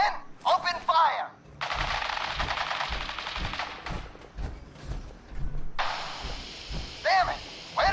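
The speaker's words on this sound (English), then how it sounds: "Men, open fire!" Rapid automatic gunfire in the Fallout 4 video game, loud close bursts of machine-gun fire with short pauses between, mixed with brief shouted voices.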